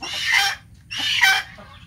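Two loud, nearby squawking clucks from a free-range chicken, a short pause between them, with faint background noise and no talking.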